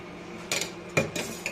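A metal pan is set down on a stove for tempering, giving a few short, close metallic clinks and knocks in quiet kitchen surroundings.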